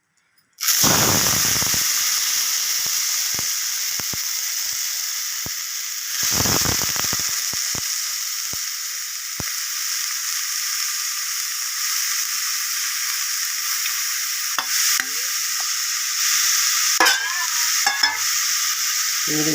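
Chopped banana stem dropped into a pan with roasted urad and chana dal, an abrupt loud burst of sizzling that settles into a steady hiss, broken by clicks and scrapes of a spoon stirring.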